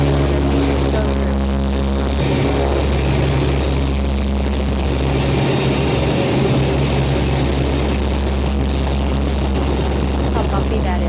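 Recorded takeoff of a C-130 military transport aircraft, played back as a loud, constant low engine drone with a broad roaring wash that holds steady throughout, with no speech.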